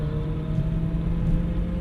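Aston Martin DB9 engine held at light throttle on a track, a low even rumble with a faint steady tone, close and moderate in level, no voices.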